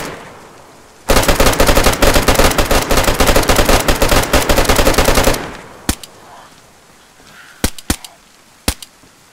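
A loud, rapid burst of automatic gunfire for several seconds, followed by a few separate sharp single shots, close and dominant, from the video game DayZ during a raid.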